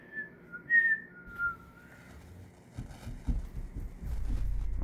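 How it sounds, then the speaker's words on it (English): A few short whistled notes, quiet and close, followed by soft rustling and a low thumping rumble. "maybe he doesn't like it when you whistle"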